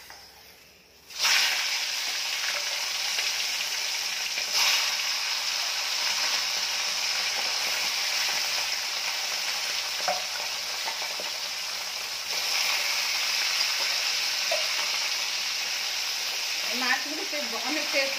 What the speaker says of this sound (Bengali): তেলটা গরম হয়ে গেছে বন্ধুরা, মাছগুলো দেবো ভাজতে।